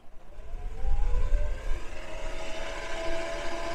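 Steady whooshing fan noise from a portable ice air cooler (Icy Breeze) on its high setting, with a low rumble and faint whining tones, a machine running at high speed close by, no talking.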